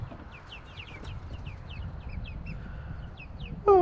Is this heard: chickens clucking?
yes